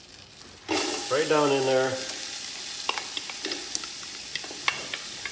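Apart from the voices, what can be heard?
onions sizzling as they are added to the pan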